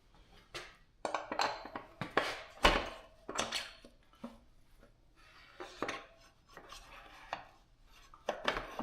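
A greased axle being slid into the wheel of a 2025 KTM 300 XCW dirt bike, heard as close metallic scrapes, clicks and knocks in uneven clusters separated by brief quiet gaps, with no talking.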